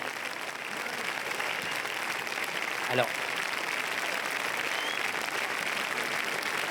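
A crowd at the Cannes film festival applauds after a Spielberg screening, a broad continuous wash of clapping and cheering from a large audience, with a brief voice speaking in the middle.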